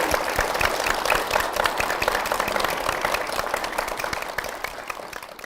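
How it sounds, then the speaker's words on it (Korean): A church congregation gives sustained, full-room applause, a thick steady wash of many hands clapping that tapers only slightly toward the end. "우리 담임 목사님과 교회를 위해서 다시 한번 큰 박수 부탁드리겠습니다"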